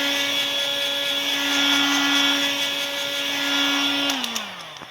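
Heat gun blowing steadily on a silkscreen frame, a loud continuous whine with strong tonal hum that holds for about four seconds, then drops in pitch as the tool winds down.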